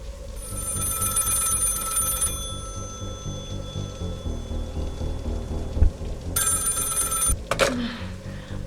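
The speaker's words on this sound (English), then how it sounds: "phone ringing again." A telephone bell rings repeatedly at the front desk of a horror game's palace setting, steady trilling bursts near the start and again toward the end over a low rumbling, rain-like background.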